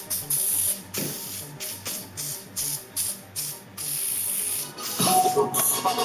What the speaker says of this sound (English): it's called atmosphere aerosol, but it's basically haze in a can